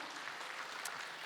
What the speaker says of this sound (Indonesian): Tepuk tangannya paling meriah buat Tuhan.